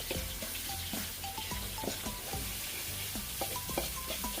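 Ingredients for a sauce sizzle and stir-fry in oil, a continuous hiss broken by frequent clinks and scrapes of utensils against the pan, close and busy.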